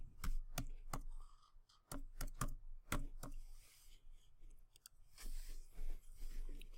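Fingers tap out a password on a computer keyboard in quick, irregular clicks close up, bursts of keystrokes separated by short pauses, fairly quiet with no talking.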